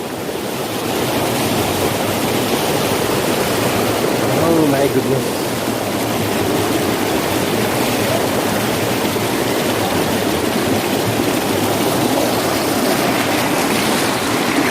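Continuous rushing water from a fast mountain stream crossing a trail, loud and close, with wind buffeting the microphone and a person briefly exclaiming over it.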